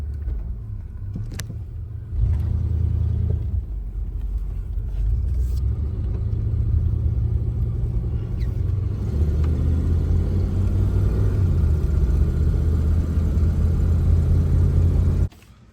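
A 1991 Chevy Caprice engine running steadily, a loud close low rumble that holds fairly even for about fifteen seconds, rising slightly partway through, then cutting off sharply at the end.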